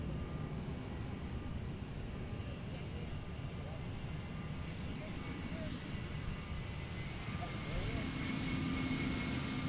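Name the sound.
Delta Airlines Airbus A320 at Bergstrom airport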